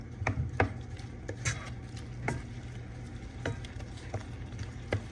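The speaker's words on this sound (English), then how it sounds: "Chop the broccoli." A knife chops broccoli on a board in a loose rhythm of light, crisp taps, about a dozen strikes over a few seconds. A low kitchen hum runs underneath, and the chopping sounds close and fairly quiet, with no voices.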